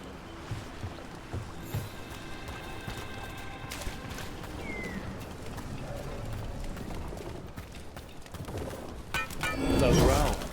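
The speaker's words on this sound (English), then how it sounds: "Another owl." In the forest of the video game Dragon Age The Veilguard, an owl gives soft hoots amid rustling game ambience and movement sounds, with a voice briefly heard.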